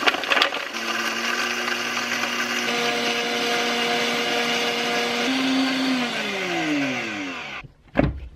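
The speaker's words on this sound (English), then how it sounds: "So now that I have all of my powders in the blender, I like to blend the powder into a fine consistency" A blender whirs loudly and steadily as it blends dry acai smoothie powders, the motor pitch rising partway through and then winding down before a brief clatter at the end; no one speaks.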